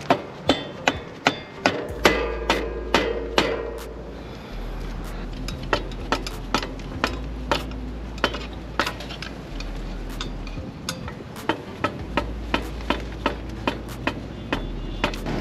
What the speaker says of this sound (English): let's go ahead and grab our mallet and just give this a few whacks and see if it pops out